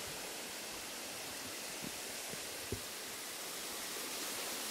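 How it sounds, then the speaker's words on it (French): A tufa waterfall covered in green moss in the Verdon gorges, a dense continuous rushing roar close by, loud and unbroken throughout. "cascade de tuf recouverte de mousse verte et tout."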